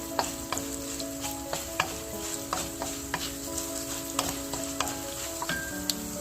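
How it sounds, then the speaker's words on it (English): Coriander, fennel, cumin and whole black pepper dry roasting in a pan, giving a steady close sizzle and crackle with light ticking pops and occasional stirring scrapes throughout. "This adds tons of flavor when you roast them lightly."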